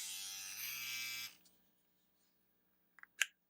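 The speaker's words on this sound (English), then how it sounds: "and the nose hair trimmer." A cordless USB-rechargeable nose hair trimmer runs with a steady close electric buzz for just over a second, then switches off, followed by silence and a few faint clicks and handling taps.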